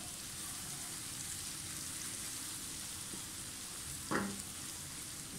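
Onions fry in a pan for a mixed vegetable dish, giving a steady, even sizzle throughout, fairly close, with a brief clink or stir near the end.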